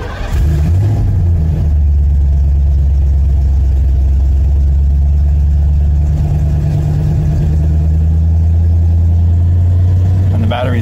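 A 1991 Ford F-150 engine cranks and catches, then settles into a loud, steady idle running slightly high on a cold day, with a continuous deep engine hum close by throughout.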